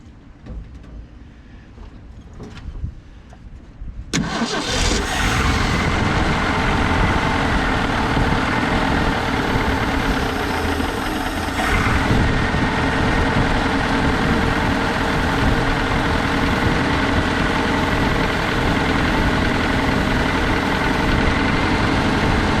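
A Ford bumpside pickup's inline six, long buried and sitting over twenty years, starts and settles into a loud, steady idle, with quieter rustling before it catches.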